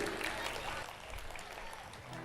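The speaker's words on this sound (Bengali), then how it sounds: "তার জন্য একটা জোরে হাততালি হতে পারে কি?" An audience at a live music concert bursts into applause, a loud, dense clatter of clapping that eases slightly midway and carries on steadily.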